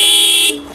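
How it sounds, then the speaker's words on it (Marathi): A TVS Apache RTR 160 4V motorcycle sounds one short, loud, bright honk of its horn, close up, cutting off after half a second. "हॉर्न कसा आहे गाडीचा, एकदा वाजून दाखवता का?"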